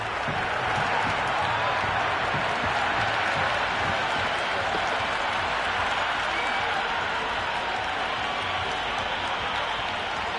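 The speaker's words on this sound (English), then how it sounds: "The crowd is electric right now." A video-game crowd at a cricket match in Cricket 26 on PS5 sends up a constant, dense roar of cheering and applause that holds steady from start to finish.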